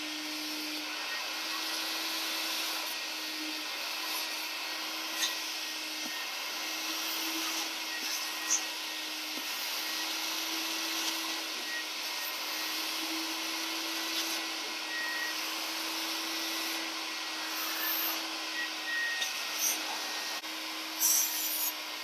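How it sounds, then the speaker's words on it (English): A carpet extractor shampoos cloth car seat upholstery with a constant whining vacuum drone and a steady hum. Occasional rubbing and scrubbing knocks sound over it for the full stretch, with no talking. "Now we got our carpet extractor ready to go."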